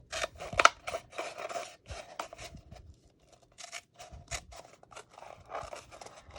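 Scissors snip straight down the seam of a cup, a close series of crisp cutting strokes in short bursts with brief pauses between them.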